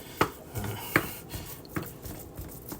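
Ground meat for taco filling is being chopped up in a hot pan, producing faint, evenly spaced taps and scrapes of a utensil against the pan over a quiet sizzle.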